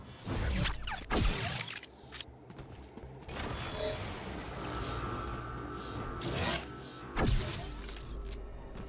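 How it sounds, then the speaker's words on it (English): Mechanical clicking and creaking with ratchet-like whirs as a disruptor pylon is placed in the video game Agents of Mayhem, several bursts over continuous electronic game ambience; no talking. "Alright, disruptor pylon over here."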